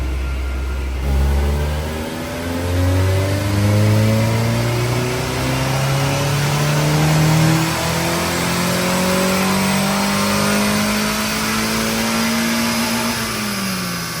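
Acura Integra B18C engine swap on a chassis dyno, revving hard through rising harmonic sweeps toward a 7,200 RPM redline, loud and steady for over ten seconds before easing off near the end, with no talking.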